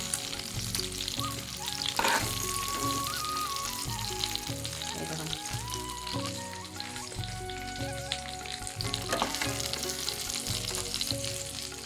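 Prawns fry in oil in a pan for a prawn malai curry, giving a loud, continuous crackling sizzle close up, with melodic background music running underneath and no speech.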